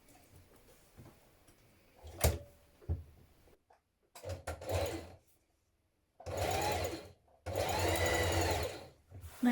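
A domestic sewing machine stitches down the turned-in outer edges of denim jean-jacket pocket facings, running in several bursts of steady rapid whirring, the last two long, separated by short pauses and a few clicks.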